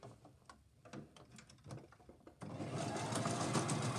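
A sewing machine stitches a fabric tote bag, starting with a few scattered ticks and handling clicks, then running steadily with a dense, even mechanical whir close by.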